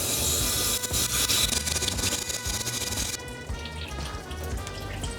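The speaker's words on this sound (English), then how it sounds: "I'm gonna rinse her little face." Running water rinses a tiny poodle's face during a grooming bath, a steady close splashing and trickling that continues throughout without talk.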